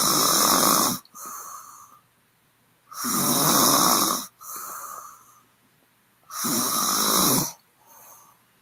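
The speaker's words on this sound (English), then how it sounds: "Women snore." Loud, rasping snores from a woman repeating in a slow rhythm, each harsh inhale followed by a softer exhale, close up with quiet gaps between breaths.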